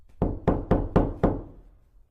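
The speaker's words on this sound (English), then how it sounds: "One morning there was a loud knock on the door." Five loud, sharp knocks on a door, evenly spaced and close, each hollow thud ringing briefly before the next.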